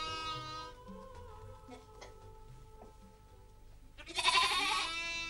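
A flock of sheep and llamas in the Bolivian highlands, with sheep bleating at moderate distance, several overlapping calls and a loud close bleat near the end.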